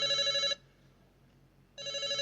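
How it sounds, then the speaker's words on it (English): A telephone bell rings in two loud, close bursts separated by a silent pause of about a second. No voices are heard. "Hang on, I'm trying to answer the phone here."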